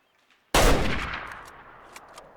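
A single loud rifle shot at a deer in the hunting game Way of the Hunter: one sharp crack followed by a long rolling echo that fades out over about two seconds.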